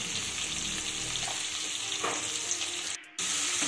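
Eggplant frying in a pan over medium heat, a steady close sizzle with faint stirring scrapes and a sharp brief drop near the end, no talking.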